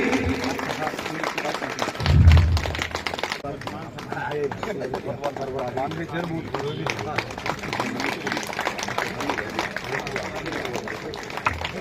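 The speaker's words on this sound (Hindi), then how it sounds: "तो जोरदार तालियां बजती रहनी चाहिए" Audience applause at a village religious gathering honoring Shri Ram, a dense steady patter of many hands continuing throughout, with a brief louder thump early on and voices mixed in.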